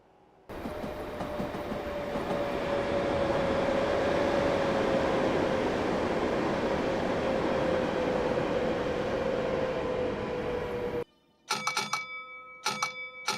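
A Class 465 electric train in Train Simulator 2016 braking to a stop, with a loud, steady rolling rumble and a slowly falling whine that cut off abruptly, followed by a few beeping door-chime tones.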